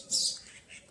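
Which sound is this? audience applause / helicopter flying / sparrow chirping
sparrow chirping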